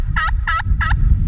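A handheld turkey call mimics a gobbling mating call, giving three short, loud, evenly spaced bursts close to the microphone over a low background rumble, with no voices.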